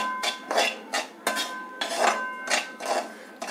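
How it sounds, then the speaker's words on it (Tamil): A spoon scrapes and knocks against a pan as semolina is dry-roasted for rava pongal, giving a series of close, rhythmic scraping strokes with metallic clinks between them. "முதல்ல இந்த ரவையை நல்லா வறுத்துக்கலாம்"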